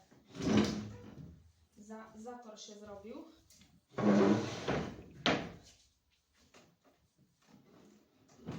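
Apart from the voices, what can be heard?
furniture and chairs being pushed across a tiled floor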